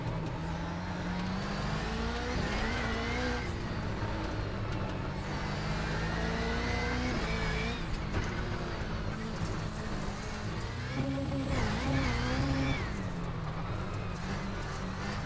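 A Subaru WRX engine on track in the racing game iRacing, revving and shifting through gears with rising and falling pitch, loud and continuous, with a voice talking over it at times.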